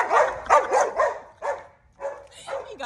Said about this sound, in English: Oh, gosh, it's a dog.